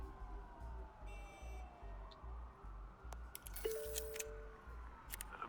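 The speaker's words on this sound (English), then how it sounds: "There are quite a few police cars convening on your location." Several police car sirens in the game Batman: The Telltale Series, wailing tones sweeping up and down over a steady low rhythmic pulse, with a sharp clink partway through.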